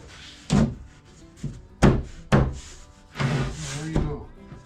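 A wooden drawer is pushed into the bottom of a cabinet, giving several loud, close thunks and knocks as it meets the frame, then a longer scraping slide near the end.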